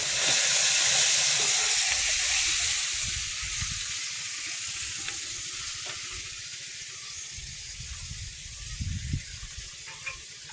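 Fish sizzles loudly in a hot pan, a bright steady hiss that slowly softens, with faint clinks and small pops rising near the end.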